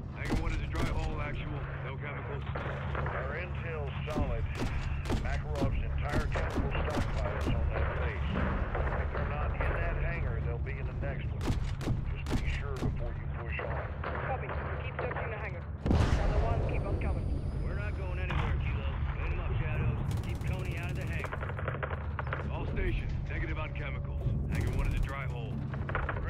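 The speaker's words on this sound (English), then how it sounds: "We're taking RPG fire!" Call of Duty MW3 (2023) battle with RPG and mortar fire: sharp blasts and impacts scattered over constant mechanical rumble and gunfire, with a heavy explosion midway, under intermittent game dialogue.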